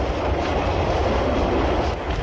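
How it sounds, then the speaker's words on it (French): A Paris metro train runs with a steady, loud rumble and roar that fills the whole stretch, with no voices over it. "Ces trains, dont chacun peut transporter presque autant de voyageurs qu'un rapide, s'arrêtent à des stations très rapprochées."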